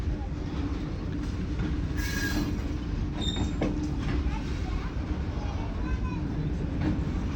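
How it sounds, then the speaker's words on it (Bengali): Long freight train of loaded wagons rolling past at a border crossing, a continuous close rumble with wheel clatter and occasional brief metallic squeals, steady throughout. "বড় ট্রেন, মালগাড়ি যাচ্ছে।"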